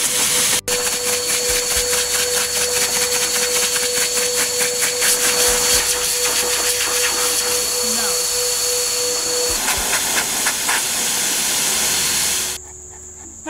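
A pet blow dryer roars steadily and loud at close range while drying a Newfoundland dog's thick fur during grooming, a constant broadband whoosh with a thin high whine, cutting off abruptly near the end.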